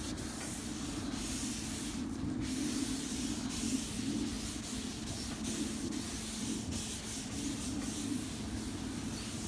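New replacement panels for a Honda are scuffed by hand at their corners, giving a steady, fairly quiet abrasive rubbing that runs without a break over a low background hum.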